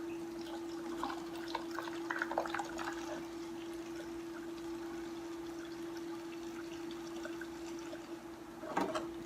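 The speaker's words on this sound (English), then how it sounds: "Let's drain some out of here." Water runs and trickles steadily as it drains from an ultrasonic cleaner beneath a constant electrical hum, with a louder splash or gurgle near the end.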